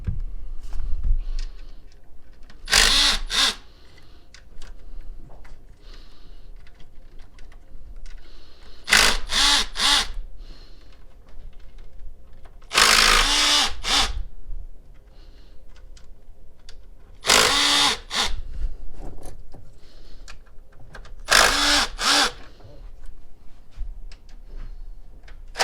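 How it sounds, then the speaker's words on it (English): A power tool loosens the intake bolts on a 2011–2019 Ford Explorer 3.5 V6, firing in five loud, separate one- to two-second bursts spaced several seconds apart over a quiet background. "Next, we're going to remove the intake bolts."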